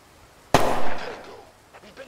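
A single sharp gunshot fired through a window in the tactical shooter Thunder Tier One, a loud crack with a ringing tail that fades over about a second, followed by faint movement sounds.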